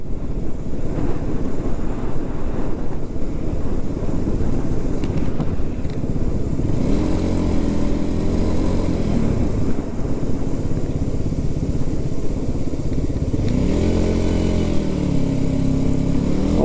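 A loud Yamaha R15 motorcycle is ridden into Almora under heavy wind rush, its engine drone swelling in two rising revs.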